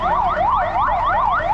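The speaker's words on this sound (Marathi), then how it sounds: "यानंतर जिल्हा चिकित्सक रुग्णवाहिका नेतृत्व करत आहे डॉक्टर सागर नेरकर, चालक आहे जितेंद्र परदेशी" District hospital ambulance siren in a Republic Day parade in Nandurbar, a loud, close, rapidly rising and falling wail repeating several times without pause.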